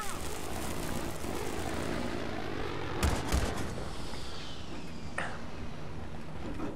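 Steady rotor and engine drone of a helicopter in Battlefield 3 multiplayer on Kharg Island fills the clip, with a couple of sharp bangs partway through.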